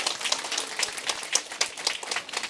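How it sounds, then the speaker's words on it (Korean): Audience applause welcoming a marine biology researcher to a science lecture stage: dense, steady clapping from a crowd across the whole stretch, moderately loud and without talk. "아까보다 더 큰 박수로 환영해 주시기 바랍니다."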